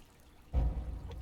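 A burst of water is poured onto a campfire in the survival game Subsistence, a short loud splash and rush that starts suddenly and then tapers into a steady trickle.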